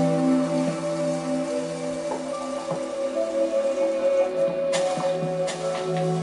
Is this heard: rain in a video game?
yes